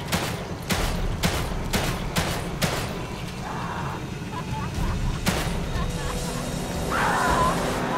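Handgun shots in The Evil Within 2 during a boss fight with the Guardian: a quick run of sharp reports spaced about half a second apart, then a lone shot a few seconds later, over rumbling game ambience.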